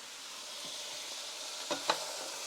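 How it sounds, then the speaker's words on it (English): Chopped vegetables for a beef and vegetable soup stirred in a sizzling pot, a soft steady fry hiss with two brief louder scrapes of the spoon near the end. "just stir this up for maybe another minute"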